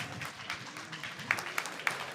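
Scattered applause from a crowd at a face-to-face event, thin and somewhat distant, with a handful of sharper individual claps rising above a murmuring background.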